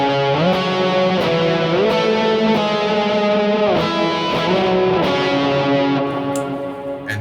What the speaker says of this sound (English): I could play octaves.